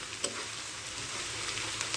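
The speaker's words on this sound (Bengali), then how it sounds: "এই যে মশলাটা আমার ভাজা হয়ে গেছে, ভাজা ছেন বেরোচ্ছে" Ground spice paste with ginger, garlic and onion fries in a pan, giving a soft, steady sizzle broken by a few sharp pops and stirring scrapes.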